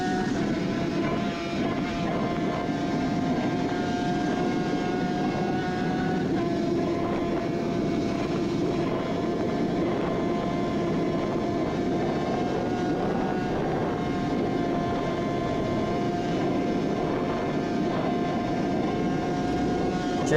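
Onboard a Suzuki RG500 two-stroke racing motorcycle at the Isle of Man, the engine holds a loud, steady high-pitched wail with strong tonal harmonics, mixed with heavy wind rush throughout.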